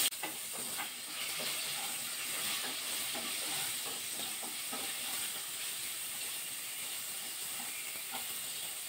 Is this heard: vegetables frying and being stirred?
yes